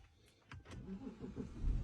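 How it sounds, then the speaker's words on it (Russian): A BMW 730D starts with a newly made key: a few soft clicks, then the engine cranks and catches into a low, rising rumble, heard up close. "и заводим машину."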